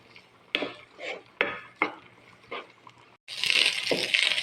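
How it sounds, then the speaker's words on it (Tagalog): Leftover rice being sautéed in a pan: a series of separate scraping, clanking stirs of a utensil against the pan, then a loud sustained sizzle rising near the end. "Gisa natin siya."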